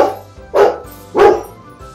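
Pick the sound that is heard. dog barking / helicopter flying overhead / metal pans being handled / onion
dog barking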